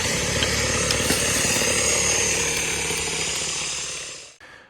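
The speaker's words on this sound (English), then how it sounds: "I'm gonna be using the blower to introduce oxygen to this fire" A blower's steady, loud roar pushes air onto a burn pit fire on a homestead, running continuously before cutting off abruptly near the end.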